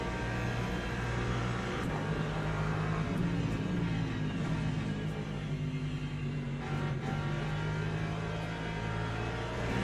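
Race car engine in the sim racing game Le Mans Ultimate, a steady loud drone with sustained engine tones and slight pitch shifts, running continuously with no talk.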